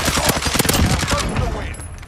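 Rapid MP5 submachine gun hip fire in the video game Warzone, a dense burst of loud, close shots rattling continuously for about two seconds with little pause.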